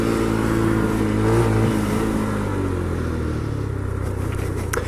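A motorcycle engine is revved in short bursts, the throttle snapped open and shut so the pitch rises and falls repeatedly against a steady idle, heard close with no talk.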